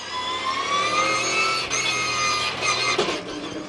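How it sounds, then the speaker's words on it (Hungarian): Rear-wheel-drive Maserati Quattroporte race cars in a SuperStars Series round at Vallelunga, a loud, sustained engine drone with strong harmonic whine and a brief dip around a gear change, no talk over it. "A váltó és a motor hangja, ami olyan sok rajongónak örömet tud okozni."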